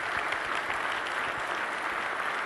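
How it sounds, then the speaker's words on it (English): Conference audience applauding young people working with the Fish and Wildlife Service and refuge system, a continuous, even roar of clapping from a large room, somewhat distant and steady throughout. "So give them a round of applause"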